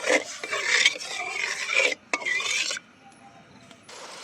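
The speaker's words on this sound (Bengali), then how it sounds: "পরিমাণ মতো নুন দিয়ে দিচ্ছি একটু নেড়ে দেব" Salt being stirred into water heating in a pot, with close scraping and rubbing strokes against the pot in repeated bursts, then a quieter stretch and a final short stir.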